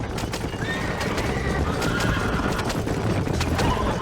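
Horses in the Red Dead Redemption video game whinny and neigh over steady, rapid hoof clip-clop, loud and continuous throughout, with busy movement noise underneath.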